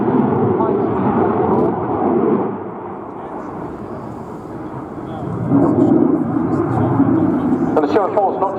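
A French Air Force Dassault Rafale C jet roars loudly past in a high-speed pass at the RIAT air show. The broad rumbling wash swells again toward the end, and crowd noise and commentary sit underneath.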